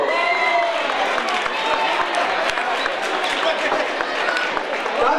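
A crowd claps and cheers steadily at a race award ceremony for a town mile and half marathon, with a voice speaking over the sustained, fairly loud applause.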